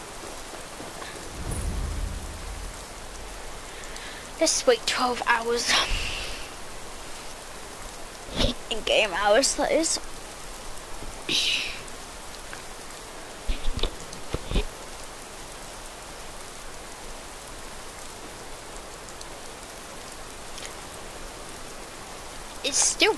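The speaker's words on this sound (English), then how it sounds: "I don't like it when it's raining." Rain and thunder in the video game Skyrim, a steady hiss of rainfall with occasional low rumbles, while a person talks intermittently over it.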